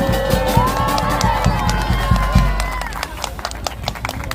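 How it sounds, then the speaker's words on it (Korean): Outdoor crowd at a Daejeon-Chungcheong Free University launch event in the cold, clapping and cheering with scattered claps and whistle-like tones, lively at first and then thinning to sparse claps. "큰 박수 다시 한번 부탁드립니다."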